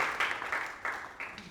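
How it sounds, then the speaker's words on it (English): Audience clapping for self-help groups at a behavioral health gathering in Hawai'i, a short burst of applause swelling in waves, moderately loud with no voices over it. "can I get a big round of applause to our self-help groups?"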